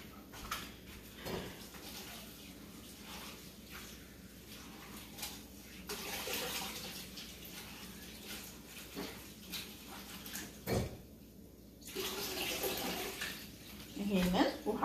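Water splashes and runs as vegetables are soaked in a kitchen, with faint intermittent sloshing and pouring bursts, some louder surges near the end, and quiet talk in the background.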